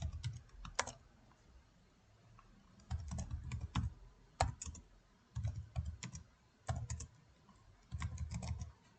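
Code is typed on a computer keyboard in short bursts of rapid clicking keystrokes separated by pauses, close and fairly quiet, with someone speaking briefly near the start.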